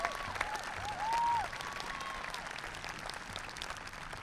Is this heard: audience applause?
yes